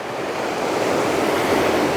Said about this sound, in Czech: ve své celé kráse Jonské moře